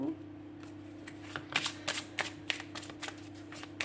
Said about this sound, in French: Je vais recouvrir avec le Gilded Rêverie et avec les 77 d'Alias Kay pour qu'on ait un petit peu plus de précision.